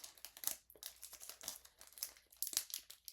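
A trading card pack wrapper, a foil Skybox Premium pack, crinkles and crackles in short bursts as fingers work at it, close and quiet.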